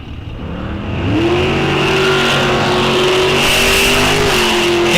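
Drag race cars, a '68 Olds Cutlass and an '81 Camaro, at Rock Falls Raceway, with loud steady engine roar that swells after the first second and holds, rising in pitch like acceleration down the strip.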